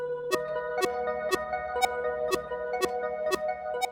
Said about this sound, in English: Now this is an analog delay, and so the repeated sound is going to be a little bit degraded compared to the first one as a purposeful effect.